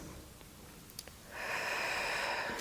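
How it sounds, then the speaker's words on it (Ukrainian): Breathing during a posture exercise for a slouched back: a quiet, soft intake, then a steady, airy exhale that rises and holds, close to the microphone with no talking. "Вдих і видих."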